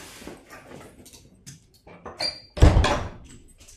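A cottage door handled at close range, with soft clicks and rattles leading to a loud thunk and rush of the door opening, then a quieter tail.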